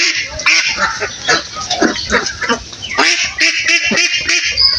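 Ducks on a duck farm quacking in a dense, overlapping chorus, loud and close, with many harsh nasal calls following one another in quick succession.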